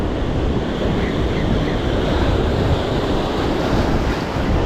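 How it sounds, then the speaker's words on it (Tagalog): Strong ocean surf roars steadily at a seaweed-strewn fishing spot, a dense continuous wash of breaking waves with wind buffeting the microphone. "Dito tayo sa ano, lakas na alon."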